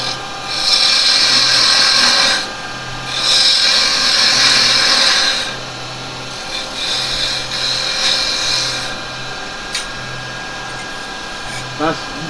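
Wood turning on a lathe while cutting a bead: loud bursts of scraping, rasping tool-on-wood cutting that start and stop over a low motor hum, with a pause between cuts.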